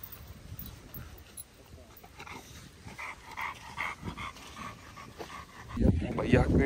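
A newly bought dog of a heavy, dangerous-looking breed, heard in bursts of barking and whimpering at a house, with a loud close-up stretch at the end, mixed with people talking nearby.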